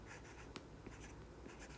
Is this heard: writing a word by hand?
yes